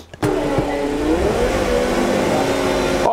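A repaired, previously wrecked car's engine runs steadily as the car reverses, a loud close mid-pitched drone with slight rises in revs and no talking.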